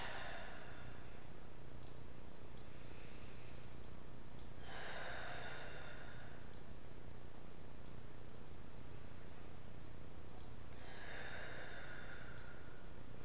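Breath exhaled during a yoga class, three long airy exhalations spaced several seconds apart, close and clear against steady background hiss.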